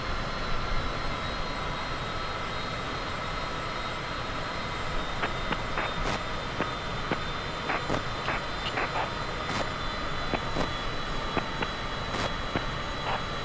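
Cessna aircraft engine in Microsoft Flight Simulator 2024 gives a steady, even drone throughout, with a series of short clicks and ticks scattered over it in the second half and no speech.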